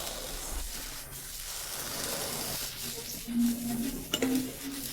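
A bowl comes off a pan of eggs cooking in margarine on low heat, with faint sizzling and a couple of light clinks of dishware near the end.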